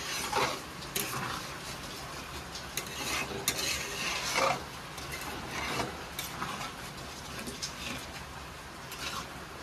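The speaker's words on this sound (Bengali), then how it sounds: "ভালো করে মিশিয়ে নেব।" Soya keema tarka being stirred in a frying pan, a steady scraping of spoon against metal over a soft continuous sizzle, close and moderately quiet, no voices.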